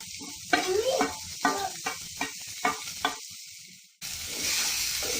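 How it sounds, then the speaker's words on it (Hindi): Chopped cabbage and capsicum go into a hot pan for masala fried rice, bursting into loud sizzling frying with several stirring scrapes, close-up, followed by a steady hiss. "अब मैं इसमें ये पत्ता गोभी और ये शिमला मिर्च दोनों एक साथ डाल दे रही हूँ।"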